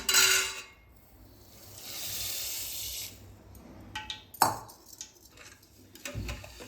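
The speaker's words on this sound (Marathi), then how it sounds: "असं हलवत राहायचं थोडं" Heating milk with sugar for masala milk is stirred in a pot, giving soft scraping and swishing with a hissing stretch and a few sharp clinks of the spoon against the vessel, close up and without talk.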